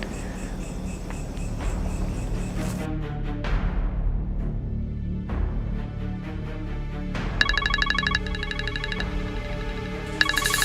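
A phone call rings out unanswered, with repeated electronic ringtone tones, a sweep and pulsing chimed bursts playing clearly for several seconds, with no talk.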